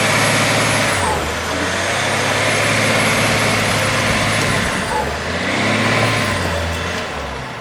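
A neglected BMW E39 540i with its 4.4-litre M62 V8 revs twice, the engine note climbing and falling back each time, close and loud.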